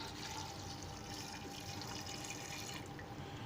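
Water pours steadily into a pot of soaked black chickpeas, a continuous close splashing hiss with slight bubbling, loud and even for a few seconds with no talking.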